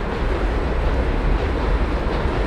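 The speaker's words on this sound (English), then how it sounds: "There's the M train." New York City M subway train rumbling past in Williamsburg, a heavy, steady low roar up close for a couple of seconds with no pause.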